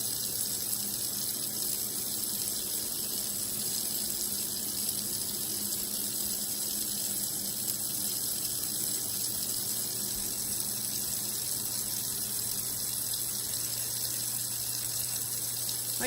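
Steady running water from a tap, used to rinse makeup brushes and a makeup sponge in a sink, a constant even rush throughout with no talking.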